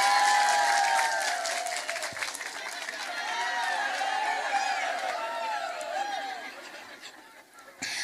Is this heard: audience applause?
yes